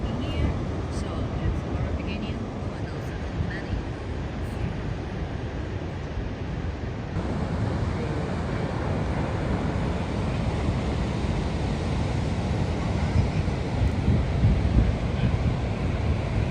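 Ocean waves washing against a rocky limestone shoreline along the Great Ocean Road, heard as a continuous broad wash of surf mixed with heavy wind buffeting the microphone, steady and loud with no clear individual breaks.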